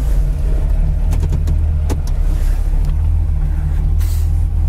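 A 1940 Pontiac Coupe hot rod runs and drives, its engine a loud, steady low drone with a few faint clicks and rattles and no voices over it.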